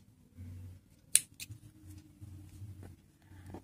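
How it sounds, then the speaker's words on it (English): Scissors snip off excess yarn from a double crochet swatch with one sharp, close cut and a few faint clicks against a quiet, low background hum. "Now cut off the excess yarn,"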